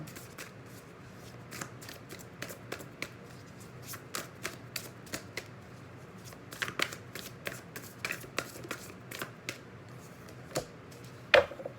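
Tarot cards being shuffled by hand, heard as rapid, irregular riffling bursts, close and crisp, with one sharper snap near the end and no talking.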